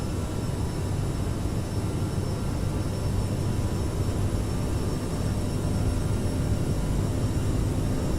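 Aerosoft CRJ700 regional jet engines held at takeoff power in Microsoft Flight Simulator, a steady broadband roar with faint high whine tones, continuous and even throughout with no talk.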